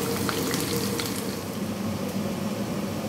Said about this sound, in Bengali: এটা দিয়ে একটু তেলটাকে ফ্রাই করে নেব।